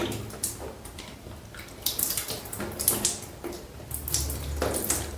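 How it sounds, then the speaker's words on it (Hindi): Water is splashed and drawn up during ablution by hand, heard as a run of close, irregular wet splashes, trickles and sniffing bursts with short pauses between them. "उसके बाद 3 बार नाक में पानी चढ़ाएं दाएं हाथ से।"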